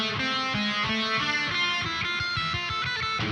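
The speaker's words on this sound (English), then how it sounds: "that harmony channel with the effects sounds like this." Layered electric guitar notes ring out in harmony, washed in echoing repeats and a spacious reverb tail, steady and full throughout.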